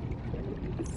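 Drinking water in Subnautica Below Zero gives a short, steady pouring and gulping wash of liquid, loud and close, lasting about a second with no talk.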